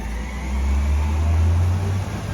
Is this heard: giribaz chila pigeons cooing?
no